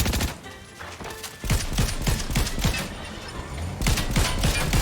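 Rapid bursts of gunfire in a Fortnite match, sharp repeated shots clustering in volleys with brief lulls between, loud and close throughout.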